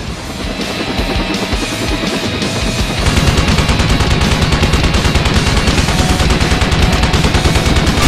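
Sustained rapid machine gun fire from the Thunder Wolves video game, loud and continuous, growing denser and heavier partway through with dense overlapping bursts and no talking.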